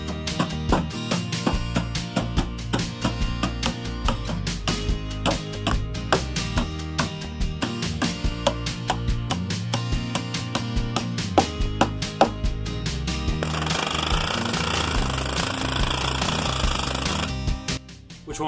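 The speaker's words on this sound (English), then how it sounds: "Then I'll use a palm nailer, which is pneumatic, to drive the long nails." Pneumatic palm nailer driving long nails into a brace on a house addition, rapid loud hammering bursts in quick repeated runs, close, ending with a stretch of hissing air noise.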